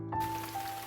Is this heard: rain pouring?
yes